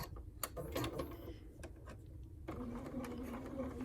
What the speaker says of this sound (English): I'm sewing a 1/4 inch seam connecting the head to the body